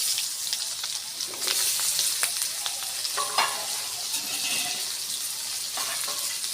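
Small onions fry in a pan with a cumin tempering, giving a close, steady sizzle with bubbling and crackling. Scattered clicks and stirring knocks from a utensil are heard over it, and no one speaks.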